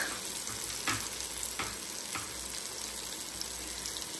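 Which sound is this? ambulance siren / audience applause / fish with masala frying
fish with masala frying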